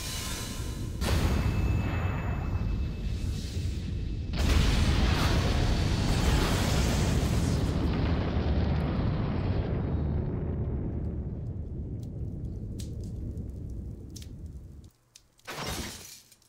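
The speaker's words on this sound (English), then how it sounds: "A crash breaks the unexpected silence. Something thuds into the ground beside me." A loud crash and heavy thud into the ground as a visual novel sound effect, a big shattering burst that decays over several seconds into fading debris, then a short second impact near the end.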